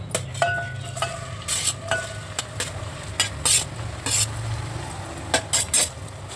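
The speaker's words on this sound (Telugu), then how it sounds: "నూనె ఇలా బాగా వేడెక్కిన తర్వాత ఒక 7-8 పచ్చిమిర్చి, ఉల్లిపాయలు," Green chillies and onions frying in hot oil for a goat-head curry, a steady close sizzle broken by repeated loud scrapes and stirs of a spoon against the pan.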